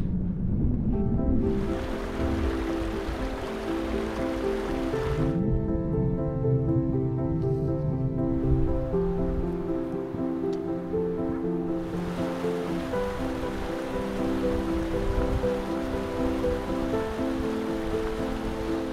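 Strong wind roaring on a mountain hike in Kyrgyzstan, a loud, continuous broadband rush that swells and eases in gusts, with a sustained tonal layer running beneath it throughout.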